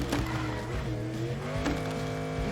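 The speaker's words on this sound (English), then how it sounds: "You're getting a car that sounds like a squeaky toy." A video game car gives off a continuous, close, squeaky tonal whine, like a squeaky toy, over a steady engine-like drone with faint tire-squeal textures.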